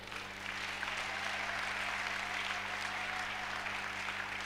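A church congregation applauds together during a French-language sermon, steady dense clapping that holds at an even level for several seconds, heard from a distance across the hall.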